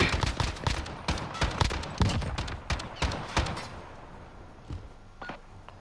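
Rapid bursts of gunfire ring out in a video game gunfight, a fast-firing weapon cracking in dense, evenly spaced shots that thin out and fade over the last seconds.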